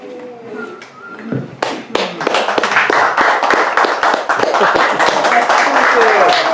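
Audience applause at a local history program, rising suddenly from quiet talk into dense, sustained clapping by a roomful of people, close and loud, with some voices mixed in.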